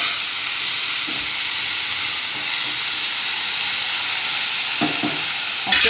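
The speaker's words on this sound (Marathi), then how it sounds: "ही बघा ही डाळ सगळी टाकून घेते मी। मग परतवायचं।" Lentils are stirred and sautéed in a pan for a cabbage dish, giving a steady sizzling, frying hiss with a few soft stirring scrapes and clinks, close and continuous with no talk.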